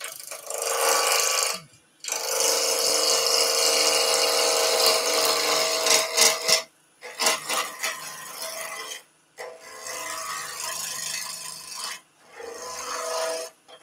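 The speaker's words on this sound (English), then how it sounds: "Let's go for a bigger gouge," A bigger gouge cuts wood spinning on a lathe, giving long rasping, scraping passes broken by short pauses as the tool lifts away, close and fairly loud with no talk.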